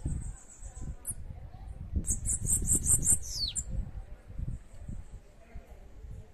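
A female sibite bird sings in short high-pitched chirps and a brief rapid trill, fairly close, over steady low background rumble and noise.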